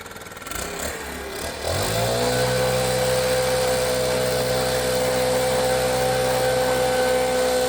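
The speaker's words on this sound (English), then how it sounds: "Maybe get that bit with a saw." A powered saw, likely a chainsaw, cutting a tree branch starts up after some rustling and then runs at a loud, steady, droning pitch for several seconds, close by.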